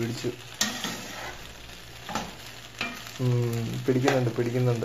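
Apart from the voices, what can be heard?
stirring and mixing chicken macaroni in a pan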